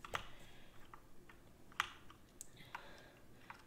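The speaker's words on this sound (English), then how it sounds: "sorry if you guys hear my keyboard clicking a lot" Computer keyboard keys clicking in irregular bursts while playing Farming Simulator 19, a few sharp louder clacks standing out among softer taps, close and alone with no talk.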